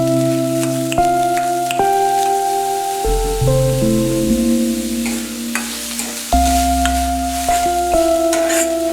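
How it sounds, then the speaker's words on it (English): Onions and green chilli frying with ginger and garlic in a pan, a steady sizzling hiss running underneath prominent background music with shifting tones. "Then add the onions and green chilli and cook until the onions turn translucent."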